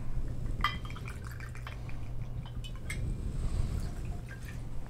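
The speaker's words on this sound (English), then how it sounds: "I filled a beaker full of ice and I added 2 ounces of, we're using the absolute pear flavored vodka." Absolut pear-flavored vodka is poured into a glass beaker packed with ice, a close trickle with small crackling clinks and drips over a low hum, with no speech.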